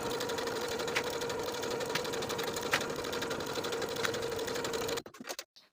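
A sewing machine runs steadily, stitching the center back seam of a vest with a 5/8 inch seam allowance, a close, even motor whir with faint rhythmic ticks, stopping abruptly near the end with a few small clicks.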